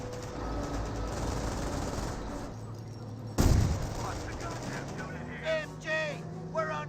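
Machine gun fire and explosions in the World War II strategy game Company of Heroes: continuous gunfire rattles under a loud sudden blast, followed by short whistling bursts, with a person talking throughout.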